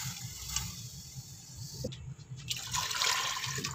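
Water is poured into a cooking pot holding chicken and garlic paste over a lit flame, 2.5 litres in all. It splashes and gurgles in uneven bursts, close by, with no voices.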